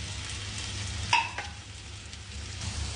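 Ginger, garlic and tomato fry in a pan with a quiet continuous sizzle, broken by one sharp metallic scrape of stirring near the middle.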